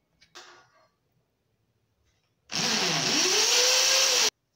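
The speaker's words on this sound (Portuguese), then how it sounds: "Vamos pôr a broca na furadeira." An electric drill bores a hole into a ceiling to mount an LED ceiling light, its motor whining loudly and steadily for about two seconds, the pitch dipping and rising under load, after a brief clunk of handling.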